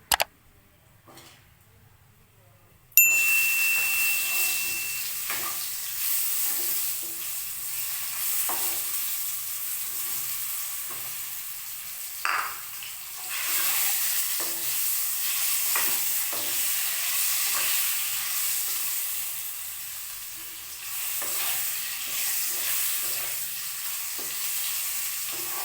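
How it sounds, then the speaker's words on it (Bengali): Potatoes frying in a pan for a thin Bengali chicken curry, a steady bright sizzle after an opening burst, with occasional stirring clicks and no talk. "এটা ভাজা ভাজা হবে, ভেজে নেবো এটাকে হালকা ব্রাউন করে"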